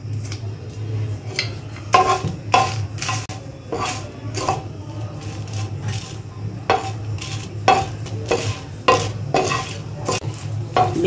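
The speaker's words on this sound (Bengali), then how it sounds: "লঙ্কাটা একটু ভেজে নিই একসাথে" Dried chillies and bay leaf are dry-roasted in a pan, with a utensil scraping and knocking against it in frequent, fairly loud strokes over a faint hum.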